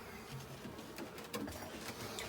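Bees buzz faintly in a storage room, a thin, quiet drone with a few brief swells as individual insects pass closer, heard alone for a couple of seconds.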